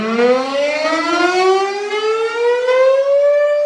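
A Sirex civil defense siren rises in a long, loud wail, its rich harmonic tone climbing slowly and steadily in pitch with no talk over it.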